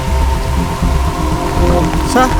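Steady rain patters down on a surface throughout, a dense wash of drops with some low rumbling and faint voices in the background.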